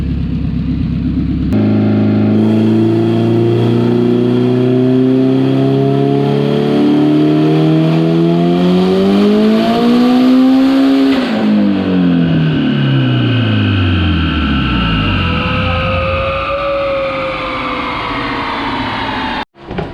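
A Honda Civic engine screams at high revs during a tire burnout, climbing and falling in pitch for several seconds with tire roar, then settles and cuts off abruptly.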